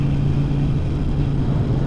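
Harley-Davidson exhaust from a Forty-Eight or Iron 883, a steady loud low rumble with a constant droning tone throughout, no talk over it.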